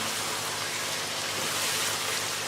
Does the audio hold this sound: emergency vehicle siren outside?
no